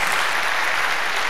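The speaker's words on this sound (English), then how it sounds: "Let's give him another big applause." A brief burst of dense audience applause in a university auditorium after a Q&A with physicist Steven Weinberg, loud and continuous for just over a second.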